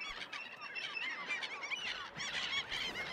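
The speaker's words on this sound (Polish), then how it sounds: "Rybitwa jest ptakiem odważnym, dlatego szybko nauczyła się ufać ludziom." A dense flock of terns calls at once, a loud, overlapping chorus of harsh, squealing cries repeating rapidly throughout with no pause.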